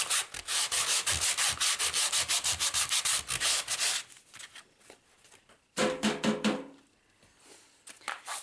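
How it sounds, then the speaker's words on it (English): Sandpaper rubs in quick, rhythmic back-and-forth strokes over a slick back piece, scratching up its surface; a dense burst of scrubbing, a brief pause, then another short run of strokes, close and clear. "I just want to give this a quick sand and scratch it up just a little bit to give it some tooth."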